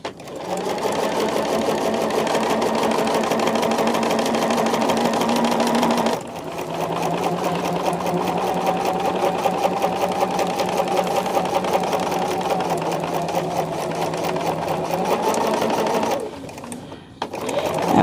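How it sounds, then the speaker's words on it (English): A sewing machine stitching fabric runs loud and close in a steady whirring drone, pausing briefly twice as the work is turned before starting up again. "I'm just going to sew off that end and turn, and we're going to sew 5/8 across this."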